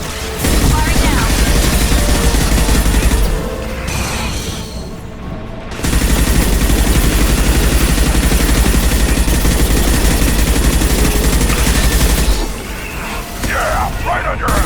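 Loud, dense sci-fi gunfire from the video game Mass Effect 2, sustained automatic bursts with impacts and explosions, broken by brief pauses, with voices talking over the combat.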